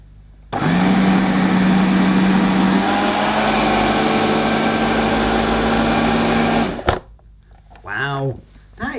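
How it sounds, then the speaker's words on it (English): A 1970s Princess Light 'n' Easy electric sweeper switches on and runs with a steady, fairly quiet motor whine and hum for about six seconds, then cuts off abruptly, followed by a person talking. "I wonder if it turns on when you recline the handle."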